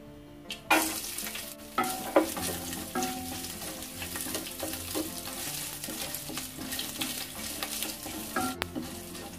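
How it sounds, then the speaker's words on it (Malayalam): Coconut pieces frying in hot oil with popped mustard seeds for a duck curry, a continuous crackling sizzle with frequent small pops and a few louder spoon scrapes and clanks, close by. "കടുക് പൊട്ടി വന്നിട്ടുണ്ട്. അതിലേക്ക് തേങ്ങ കൊത്തിട്ട് കൊടുക്കാം."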